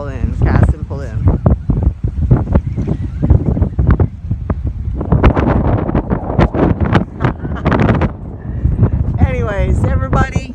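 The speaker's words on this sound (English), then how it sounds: "It's very windy." Strong wind blows outdoors on a fishing day, buffeting the microphone in loud gusts while a person talks over it almost throughout.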